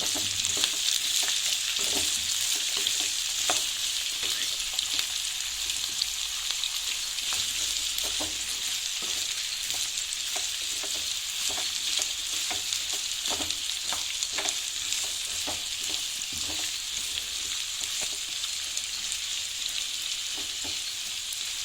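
Ginger garlic paste fries in hot oil with capsicum and onion for gobi manchurian: a constant close sizzle with intermittent clicks and scrapes of a stirring spoon, no voices over it.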